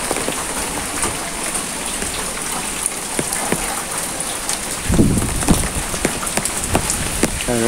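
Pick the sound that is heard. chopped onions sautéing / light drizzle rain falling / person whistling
light drizzle rain falling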